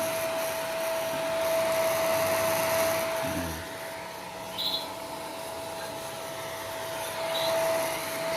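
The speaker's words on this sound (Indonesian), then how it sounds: "kita hair dryer untuk membantu mengeringkan badannya" A handheld hair dryer blows over baby canaries to dry them, giving a steady, close whooshing roar with a thin constant whine that holds for the whole stretch, with a couple of faint high chirps.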